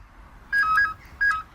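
Telephone keypad tones ring out in two short bursts of dialing beeps over a faint background hiss, with no talking.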